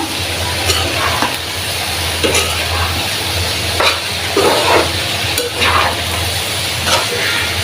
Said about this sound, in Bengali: এটা দিয়ে আমি ভাজা ভাজা করে নিব